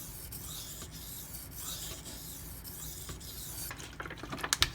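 A Spyderco PM2 folding knife with Maxamet steel being sharpened on a stone, giving a steady, close rasping rub in repeated strokes that ends with a few sharper scrapes.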